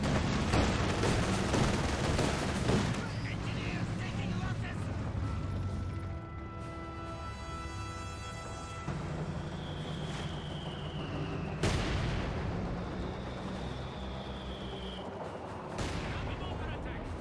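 Gunfire and a Panzerfaust blast from a Grenadier in the World War II strategy game Company of Heroes 2: dense, continuous battle noise with repeated sharp shot impacts, a whooshing rocket streak and heavy crashes throughout.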